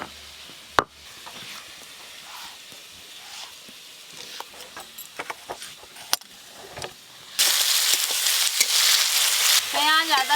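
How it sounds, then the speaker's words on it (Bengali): Onion, ginger-garlic paste and tomato frying in oil in a pan for a crab curry: scattered sharp crackles and stirring clinks at first, then a loud, continuous sizzle that takes over near the end. "পেঁয়াজ কুচি, আদা রসুন বাটা, টমেটো কুচি, সব কিছু একটু ভালো করে ভাজা ভাজা করব।"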